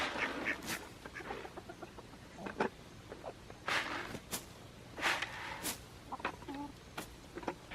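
Several chickens cluck and squawk in scattered bursts nearby, with a few sharper calls standing out against a quiet outdoor background at feeding time.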